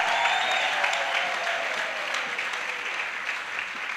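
A church congregation applauds in a steady, dense wash of clapping from many hands, sustained and fairly loud throughout with no talk.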